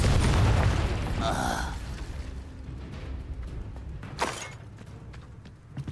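A Confringo fire spell bursts in Hogwarts Legacy, a loud booming blast at the start that rumbles and fades, followed by a sharp crack and quieter magical whooshes.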